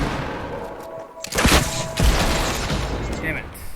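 Gunfire in a Fortnite Battle Royale match comes as a few sharp bursts and booms over a busy, noisy game background, with a player's voice mixed in.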